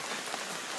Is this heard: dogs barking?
no